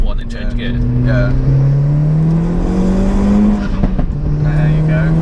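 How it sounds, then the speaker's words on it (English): Tuned Seat Cupra R with a K04 hybrid turbo, forged engine and about 370 bhp, revving hard through the gears, its engine note climbing steadily and close by, with crackling pops and bangs from the exhaust along the way. "he's got pops and bangs."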